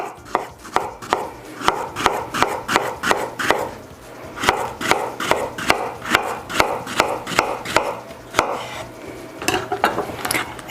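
A knife slicing bananas for fruit salad on a cutting board, a long run of steady, evenly spaced close chops with soft board thuds.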